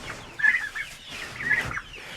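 Turkeys and hens cluck at close range in two short bursts of clucking separated by a brief pause, set during evening chores among poultry.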